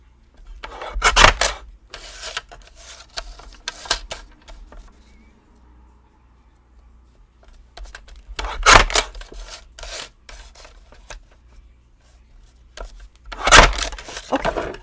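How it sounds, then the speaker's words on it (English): Paper edges on a stamped craft piece are trimmed in three separated bursts of dry rasping cuts, close and crisp, with quiet pauses between them. "Just want to trim off those edges."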